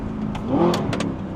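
A tuned Audi R8 with a gated manual gearbox and loud exhaust blips its engine in a quick heel-toe downshift, a short rising rev swell followed by a couple of sharp crackles, heard from inside the car.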